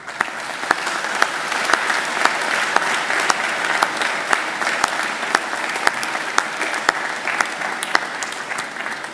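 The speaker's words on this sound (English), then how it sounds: "I'd like to ask you to give them a mighty round of applause" Graduates at a Macquarie University graduation ceremony give a sustained round of applause to family and friends, thick continuous clapping with sharp individual claps standing out, and no talk over it.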